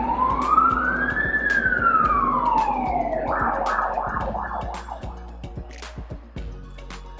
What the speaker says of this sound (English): it'll pick up on the mic the big siren